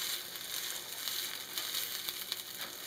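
A tuna burger patty sizzling in a hot pan, a faint, steady hiss with scattered small crackles and pops throughout.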